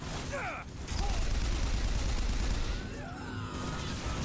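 Turrets in Bioshock Infinite fire a loud, sustained burst of rapid gunfire that fills the scene, with a brief voice and mechanical whines near the start.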